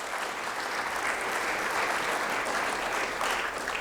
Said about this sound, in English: So I give you a round of applause.